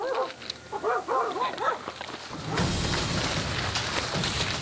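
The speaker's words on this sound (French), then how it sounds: "Mais les aboiements des chiens les contraignent à attaquer plus rapidement que prévu." Dogs bark in a rapid series of yips and bow-wows, fairly close, before the scene gives way to a rushing noisy burst of commotion.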